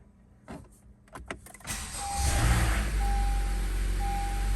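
A 2016 Honda CR-V EX is started: a few clicks and a brief crank, then the engine catches and settles into a steady, close idle, with a repeating electronic chime sounding over it.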